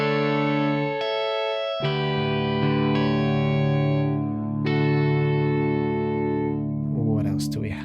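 A twangy electric guitar tone, sustained and ringing, with a few plucked notes restruck and left to hang, loud and close, ending in a brief burst of noise.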